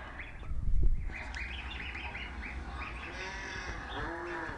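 Many young goslings peep and call in a steady, overlapping chorus of bright chirps from a nature programme. A brief low thump sounds near the start. A faint low, droning tone runs underneath.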